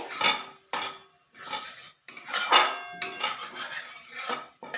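Jackfruit koftas being stirred into a simmering curry: a ladle scrapes and clanks against the pot in several loud, close bursts separated by short gaps, with no one speaking.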